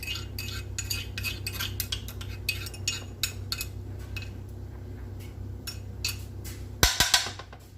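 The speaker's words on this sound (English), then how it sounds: "we're going to put in our garlic paste" Garlic paste being stirred into an orange sesame pepper steak stir fry, with a run of light metallic utensil clinks and taps against the pan, ending in a sharper cluster of clatter.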